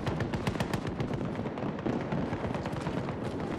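Sniper and other gunfire in a Battlefield 2042 firefight crackle as a dense, nonstop stream of sharp shots at fairly high volume, with no voices.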